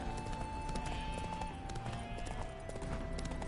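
Horse hooves clip-clop at a steady trot in the Witcher 3 game as the horse Roach is spooked, a continuous rhythmic patter under droning game music and ambience.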